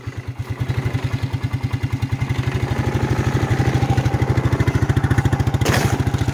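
A 1992 Suzuki Quadrunner 300 ATV engine runs at a steady, loud idle close by, a fast even chugging with mechanical clatter that holds for the whole stretch, briefly swelling near the end.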